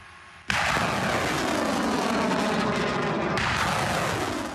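A sudden loud blast as a Uragan or Bureviy multiple rocket launcher fires, followed by a sustained roaring rush with a second surge near the end.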